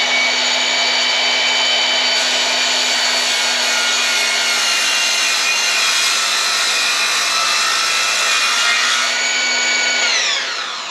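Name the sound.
table saw cutting wood for a cross cut sled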